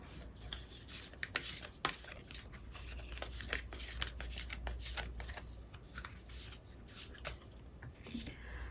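Tarot cards being shuffled by hand: a quiet, continuous riffling and sliding of cards with soft rapid flicks, heard close up and alone.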